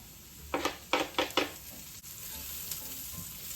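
Spinach cooks in a pan with a low background sizzle, broken by about five sharp stirring scrapes close together early on before the sizzle settles and continues.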